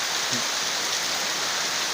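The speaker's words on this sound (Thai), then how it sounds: "นี่คือฝนนี่คือฝนแท้ครับ ไม่ใช่ฝนเทียม" Steady rain pours down outdoors in windy weather, a dense continuous hiss of falling drops that stays even and close throughout.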